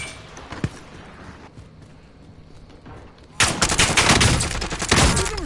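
Gunfire in the video game Warzone starts as one sharp distant shot over quiet ambience, then erupts into a loud, sustained barrage of rapid overlapping automatic fire close by.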